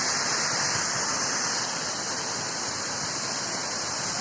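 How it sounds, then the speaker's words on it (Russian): Uchan-su waterfall near Yalta, a two-tiered fall among pines on rock, gives a steady, loud broadband rush of falling water that runs without a break and with no voices over it. "Вот он, друзья, водопад Кучансу."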